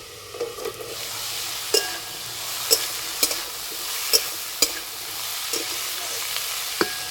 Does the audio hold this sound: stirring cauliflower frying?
yes